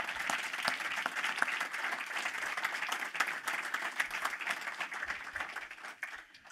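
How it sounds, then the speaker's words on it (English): Audience applause fills the room at a Startup Canada financial literacy event in 2013, a steady, dense wash of clapping that holds evenly for several seconds and then starts to thin out. "Can we please give a round of applause for Victoria Lennox"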